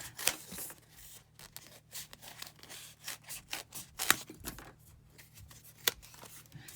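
Scissors snip through material to cut out a Nerf dagger shape, giving close, quiet, irregular crisp cuts and rustles with no talking.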